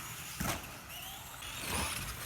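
Traxxas Slash RC truck with a low-CG (LCG) chassis and stock tires running on carpet, a steady electric motor whine with brief surges as it accelerates, close and alone.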